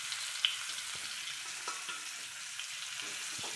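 Fish shallow-frying in a home pan gives a soft, steady sizzle and crackle, with a few faint utensil clicks and scrapes over it and no talking.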